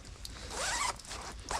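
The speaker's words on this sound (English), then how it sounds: "waterproof zipper" The zipper of a waterproof rain jacket is pulled in one quick rasping zip, close and clear, followed by a few soft fabric clicks and rustles.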